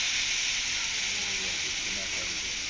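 Shredded radish and potato sizzle in a hot kadai, giving a steady, close, continuous hiss that holds evenly from start to finish.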